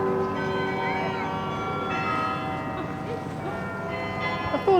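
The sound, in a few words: city church bells playing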